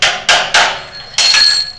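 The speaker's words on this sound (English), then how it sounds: "You'll take the drift key and a hammer," A hammer knocks a drift key to remove a drill press key chuck: three sharp metal-on-metal knocks in quick succession, then a fourth strike that rings on with a bright metallic resonance.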